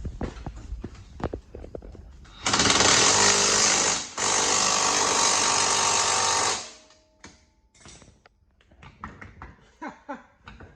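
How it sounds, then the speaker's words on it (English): A loud mechanical rattling clatter from Can-Am Outlander 650 clutch parts runs for several seconds, briefly dipping in the middle, surrounded by quieter clanks and handling noises. "If it rattles like that, we're gonna have to change this shit up."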